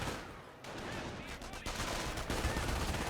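Strafing run in Company of Heroes: a dense, loud rattle of rapid aircraft machine-gun fire sweeping across the battlefield, continuous and close, with impacts and battle noise layered throughout.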